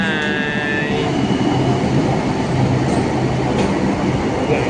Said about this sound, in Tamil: பாருங்க, வேளச்சேரிலேருந்து ட்ரெயின் வருது.